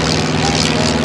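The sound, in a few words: L6 Interstate vintage airplane propeller engine at an airshow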